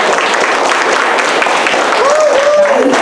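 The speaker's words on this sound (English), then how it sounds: "Clap it up, please." An audience claps loudly and continuously at a community arts event, a dense, steady wash of applause, with a few voices and whoops rising near the end.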